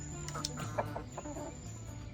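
Eight breeder hens clucking softly and intermittently at close range in a coop, with low murmuring calls over a steady background hum.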